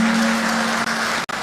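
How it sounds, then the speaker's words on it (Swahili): Dense applause from a crowd of delegates at a political party conference in Nairobi, a steady continuous clatter of many hands filling the space, with a brief dropout near the end. "Makofi for the youth."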